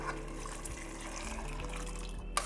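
Broth pours into a pot of black-eyed bean and potato curry on a stove, a soft continuous liquid splash over low kitchen hum.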